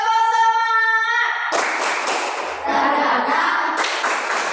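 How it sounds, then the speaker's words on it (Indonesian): A classroom of students stands and does a rhythmic spirit clap. A sung or chanted voice comes first, then the clapping starts as sharp, loud bursts of many hands, mixed with voices. "Tepuk semangat."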